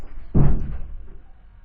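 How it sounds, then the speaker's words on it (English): A household door shuts with one solid thud, followed by a short dull rattle that fades into quiet room tone; nobody speaks. "close the door for me so I can unlock it"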